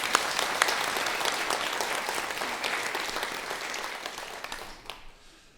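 A church congregation applauds its choir, steady broadband clapping filling the room for about five seconds before thinning and fading out near the end.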